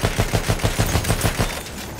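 Rapid anti-aircraft gunfire in the Battlefield 1 video game thumps out about ten evenly spaced heavy shots in under two seconds, loud and close, then fades.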